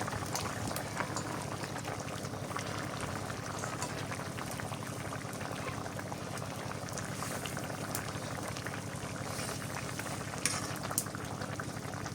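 Fish curry bubbling steadily in a pot as fish pieces go in, a continuous moderate boil with soft liquid bubbling and faint splashes throughout, no voices.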